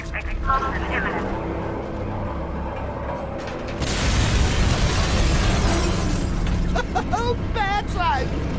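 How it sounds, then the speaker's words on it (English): An explosion in a video game starts as a sudden broadband roar that holds steady for several seconds, with voices and game sounds around it. "Explosion imminent."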